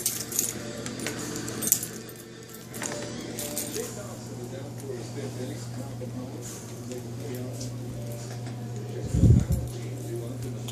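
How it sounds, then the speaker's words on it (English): Keys jangle in the Nazi Zombies video game, a brief metallic rattle over a constant low hum and game ambience, with a louder thump near the end. "Keys to doors."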